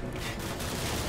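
Dense, sustained gunfire from Call of Duty: Modern Warfare, with overlapping shots forming a continuous fusillade that stays loud and steady through a fight in an airport.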